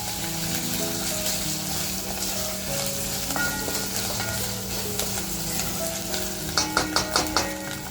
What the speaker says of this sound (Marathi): बघा, एक एक पदार्थ आपला हळूहळू छान असा फ्राय होतोय.